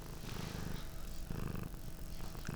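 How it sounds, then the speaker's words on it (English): A pet cat purring close to the microphone, a soft rhythmic rumbling pulse that repeats steadily in quiet surroundings. "He's purring, can you hear it?"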